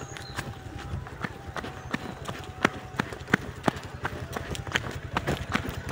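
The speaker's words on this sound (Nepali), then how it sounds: "अर्को ट्र्याक्टर आउँदै रहेछ" An approaching tractor puts out a steady, rhythmic chugging thud from its engine, moderately quiet and even throughout.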